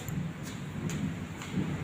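Steady rain hiss with low rumbling thunder underneath, continuous and fairly close, with no voices.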